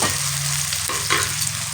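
Tomatoes frying in oil in a pan give a steady, close sizzle with a soft hiss throughout, a brief utensil scrape near the middle, and no talking.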